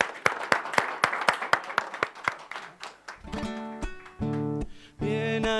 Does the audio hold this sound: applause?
yes